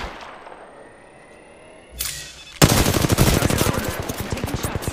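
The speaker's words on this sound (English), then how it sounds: "I'm taking shots. Firing." Rapid automatic gunfire in the video game Apex Legends, a brief burst near two seconds then a loud, sustained stream of shots with a fast, even rhythm for the rest of the clip.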